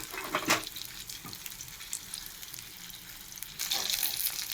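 Food fries in a pan with a faint, steady sizzle, a sharper crackling burst early on and a louder stretch of sizzling near the end, with no talking.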